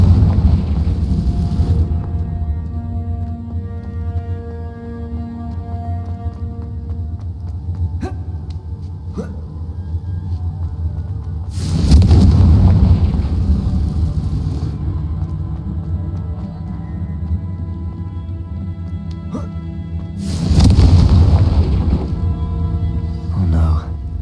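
Confringo blasting spell bursting in Hogwarts Legacy, two loud booming blasts with deep rumbling tails rising out of a low droning game background, spaced several seconds apart, no talking.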